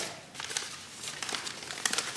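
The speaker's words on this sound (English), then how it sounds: "taking a piece of paper, crumpling it up" A sheet of paper is crumpled into a ball close by, giving irregular bursts of crisp crinkling and crackling for about two seconds, with no talking.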